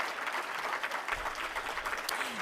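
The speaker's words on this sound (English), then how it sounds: "Please give another round of applause for all of our graduates this" A crowd applauds graduates at an evening Black graduation celebration, the clapping steady and dense from start to finish, moderately loud and without pause.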